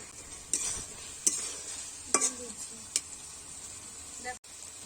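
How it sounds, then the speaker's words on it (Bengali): Fried potato pieces stirred and sautéed in a pan for a vegetarian aloo paneer, a soft sizzle under several sharp scrapes and clinks of a spatula against the pan, close and quiet. "আলুগুলি দিয়ে আমরা বেশ কিছুক্ষণ নাড়াচড়া করে একে কষতে থাকবো"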